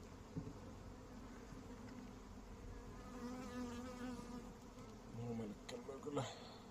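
Honeybees buzz steadily around a spring hive opened for inspection, a dense close swarm hum that swells toward the end, with a few faint voices in the background.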